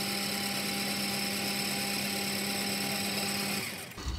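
A metal lathe cutting a left-hand internal acme thread gives off a steady, even mechanical whir with a constant hum, then it winds down and stops near the end.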